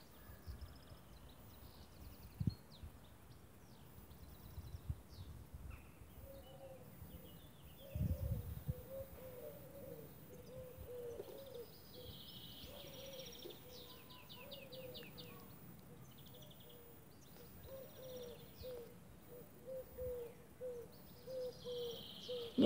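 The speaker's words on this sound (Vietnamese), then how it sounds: "Nghe tiếng chim không cả nhà?" Birdsong in a rural French countryside garden, with repeated chirps and short warbling phrases from several birds at a moderate distance over a soft outdoor hush, plus a few low bumps.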